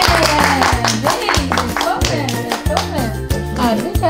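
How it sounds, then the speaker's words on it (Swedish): An audience claps to welcome a guest onto a talk show stage in Huddinge. The clapping is loud and continuous but partly buried under a strong, beat-driven music track. "Ett varm applåd till Daniel!"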